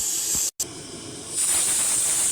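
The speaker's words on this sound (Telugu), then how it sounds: "సాంబార్ చూడండి మంచిగా కట్టెల పొయ్యి మీద మంచిగా మరుగుతుంది" Sambar boiling on a wood-fired stove, a steady close hiss with a brief dropout, then the hiss swells louder and brighter toward the end.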